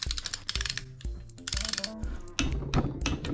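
A torque wrench ratchets while tightening a bolt on a CR85 motor, rapid loud metallic clicking in several bursts, very close, with no voices.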